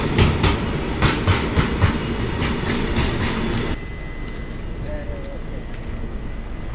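Sabari Express, an Indian passenger train, pulling out of Cherlapally station: a steady rumble of rolling wheels with rhythmic clicking over rail joints, then a smoother, quieter run, with a faint whine and a brief voice.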